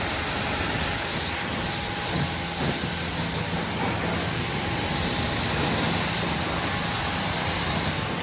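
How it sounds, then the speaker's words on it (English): A hose sprays water across a soapy car during a rinse, a steady loud hiss of spray that runs unbroken throughout, close to the listener and with no voices. "So we're gonna spray it off,"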